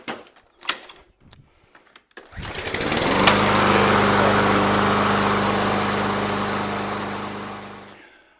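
A gasoline lawn mower engine fires up after some handling clicks and knocks, then runs with a loud, steady droning roar that holds close until it cuts off near the end.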